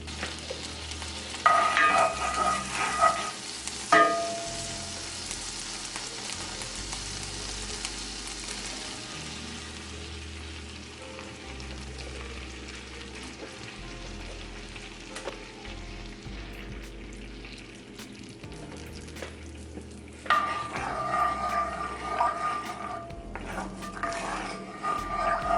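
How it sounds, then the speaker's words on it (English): Butter melts into a cream and chicken broth sauce with a soft sizzle and bubbling, and bursts of stirring and clinking against the pan near the start and end. Close and moderate, with no voices. "I'm gonna add about a tablespoon of butter."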